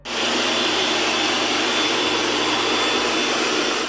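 A steady, loud broadband whoosh of a Roborock S8 MaxV Ultra robot vacuum running at full power, about 69 decibels, continuous and close with a low motor hum beneath.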